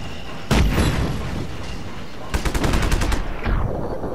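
A loud grenade blast in the video game Just Cause 3, then rapid bursts of automatic gunfire rattling in quick succession, ending with one more sharp shot; no talking.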